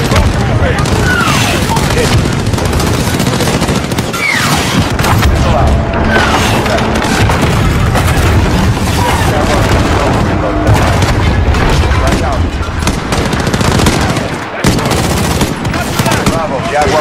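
Call of Duty Modern Warfare (2019) combat on a highway, with loud, continuous gunfire, automatic bursts and booming explosions under shouted radio chatter and voices.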